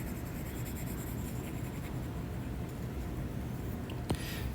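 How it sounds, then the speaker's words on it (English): Eraser rubbing across a classroom board during a calculus class, a steady dry scrubbing that runs throughout at moderate level, with a brief sharp knock near the end. "Let me erase this for a while."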